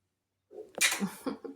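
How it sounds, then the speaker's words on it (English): A pet turkey hen sneezes indoors, a quick burst of short sharp sneezes, close and fairly loud, with no talking. "Her sneezing is like pew pew pew pew"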